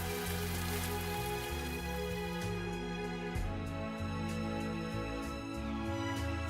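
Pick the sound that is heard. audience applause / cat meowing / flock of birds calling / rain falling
rain falling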